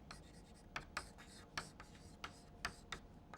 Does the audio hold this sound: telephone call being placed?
no